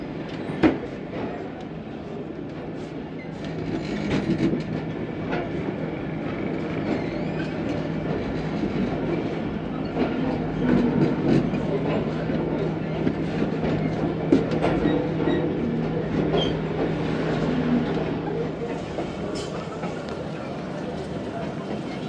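A train rolls along the tracks near Kotri Junction, a steady mid-distance rumble with faint clickety-clack for about twenty seconds while someone talks over it.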